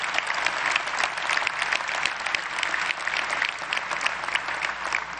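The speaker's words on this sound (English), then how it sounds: "give him a round of applause" Steady, dense applause in the New Jersey General Assembly chamber, loud and sustained throughout with no pauses.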